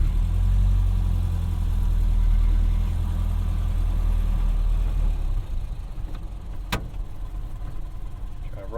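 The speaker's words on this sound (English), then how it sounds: "Roll up the window to reduce the road noise because it's pretty bad in this car." Close, heavy low engine drone and road rumble inside a 1931 Ford Model A Coupe while driving, loudest at first and then easing slightly, with a sharp click partway through and some talk from inside the car.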